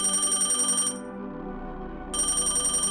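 A telephone rings with an incoming call at midnight, a steady electronic ringtone with bright repeating tones that drops out for about a second and then resumes, loud and alone without voices.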